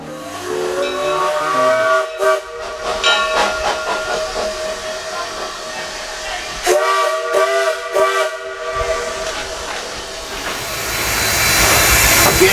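A 1925 Baldwin steam locomotive hisses and blows sustained whistle tones, with rail clatter and a rising rush of steam toward the end.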